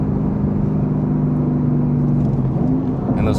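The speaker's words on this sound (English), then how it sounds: "Nothing like a naturally aspirated 5-liter V8." The naturally aspirated 5.0-liter V8 of a 2012 Ford Mustang Boss 302 with quad exhaust pipes sounds loud and close in a steady, throaty drone. A brief pitch shift near the end suggests a gear change, with no voices.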